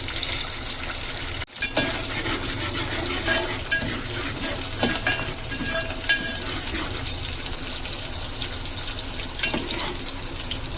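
Onion frying in a pan until browned, a loud, close, steady sizzle with scraping stir strokes, briefly cut off near the start and then running on evenly, with no voices.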